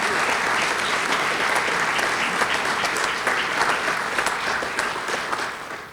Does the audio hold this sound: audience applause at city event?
yes